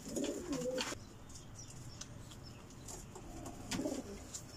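Large golden pigeons coo softly in repeated low bursts over a steady background hum.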